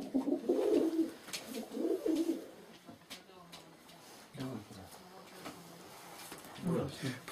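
Pigeons cooing close by in soft repeated throaty bursts, a few calls spaced apart, with someone talking over and between them.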